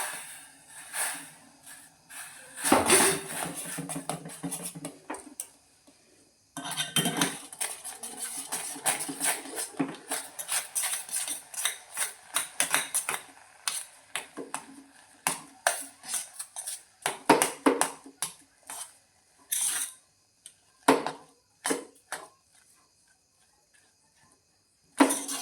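Roti flour dough is worked by hand in a vessel, giving irregular close bursts of scraping, slapping and squishing that come in busy runs separated by short quiet gaps, with no talking.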